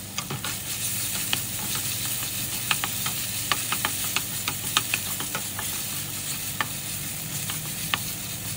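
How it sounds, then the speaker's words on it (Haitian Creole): Tomato paste frying in a pot for Haitian patties, giving a steady close sizzle with bright crackling pops and a few spoon scrapes across the pan, and no talking. "On a fait pâte tomate bien frit."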